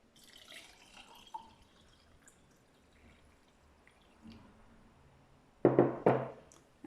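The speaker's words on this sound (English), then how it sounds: "So the water goes in." Water splashes into a glass jar for a detox drink, a short loud pour near the end after faint drips and handling noises.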